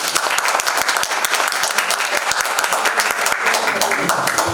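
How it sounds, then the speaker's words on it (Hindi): A theatre audience applauds before a Hindi stage play, many hands clapping in a loud, dense, continuous burst with sharp individual claps standing out close by, sustained for several seconds. "कृपया तालियों से इन लोगों का उत्साह बढ़ाइए"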